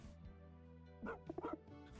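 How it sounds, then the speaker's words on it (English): A cartoonish in-game cat lets out a quick burst of dog-like barks and yips near the end, over a steady hum of game background music. "The cat barks enthusiastically."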